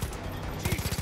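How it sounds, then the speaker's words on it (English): A machine gun in Far Cry 5 fires a rapid short burst of close, punchy shots at the end, following a moment of dense rattling gunfire. "Gotta shoot in small bursts"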